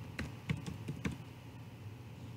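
A short burst of typing on a computer keyboard, about six quiet close key taps in the first second, then a faint still room.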